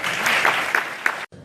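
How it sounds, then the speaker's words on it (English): Audience applause at a 2016 George Mason University awards ceremony honoring prominent alumni, a steady burst of clapping from a crowd with sharper claps standing out, ending abruptly. "So let's give one huge round of applause to all three."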